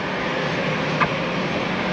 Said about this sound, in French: on peut voir tous les avions qui décollent